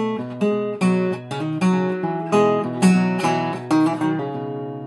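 Acoustic guitar playing the opening two measures of a song, a bass note followed by plucked chords and single notes in a steady rhythm, close and clear with no talking.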